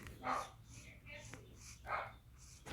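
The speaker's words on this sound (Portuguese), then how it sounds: "se eu ouvir cachorro latindo, desculpe, é minha cachorrinha." A small female dog barks indoors during a Minecraft gameplay session, giving a few short, separated yips over soft background noise.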